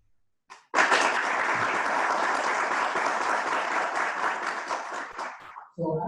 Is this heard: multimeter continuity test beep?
no